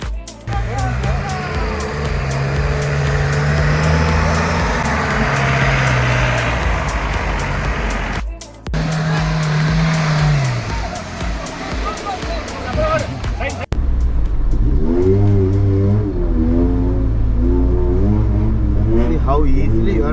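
Off-road vehicles driving through a deep river crossing near coffee estates, engines droning and revving under strain with rising and falling pitch, loud and close, with background chatter from people around.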